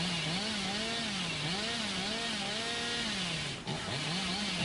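Chainsaw revving in the Dead by Daylight video game, a loud buzzing motor whose pitch rises and falls in repeated wavering surges, briefly dipping near the end before resuming.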